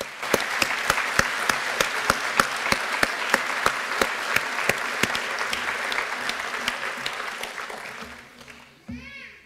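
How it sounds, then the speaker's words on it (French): Audience at a doctoral degree ceremony applauding loudly, a dense steady clapping that runs for several seconds before trailing off near the end. "je voudrais qu'on les applaudisse bien fort"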